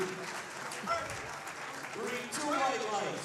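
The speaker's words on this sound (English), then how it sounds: "How about a big round of applause for Kwaku?" An audience applauds at a powerlifting meet, a steady wash of clapping that swells slightly toward the end, heard under someone talking over a speaker system.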